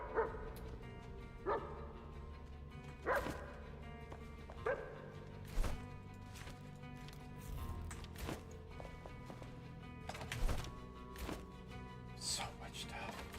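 Puppies in the survival video game Enshrouded bark and yip in several short bursts over a dense game soundtrack, with speech running beneath.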